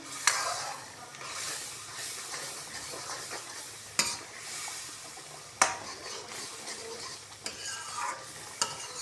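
Kadai gosht masala is stirred in a frying pan, with a steady soft sizzle under repeated scraping strokes and a few sharp spoon clanks against the pan.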